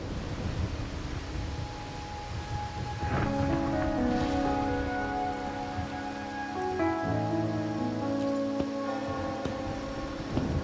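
Steady rainfall in the video game Wuthering Waves, a continuous soft hiss of drops pattering on surfaces, heard beneath sustained melodic background music throughout.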